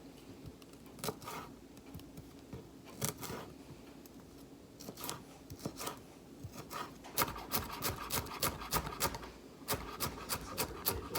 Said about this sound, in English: And then mince this up.